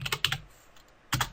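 A command being typed on a computer keyboard: a quick burst of about four close key clicks, a short pause, then two or three more taps, with no speech.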